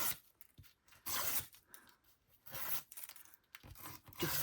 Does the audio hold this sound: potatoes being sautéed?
no